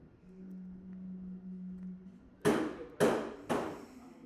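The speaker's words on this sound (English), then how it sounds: "Someone is hammering in the next room over." Hammering sounds from the next room, three sharp, evenly spaced blows coming after a low steady hum, each loud strike ringing out briefly before it fades.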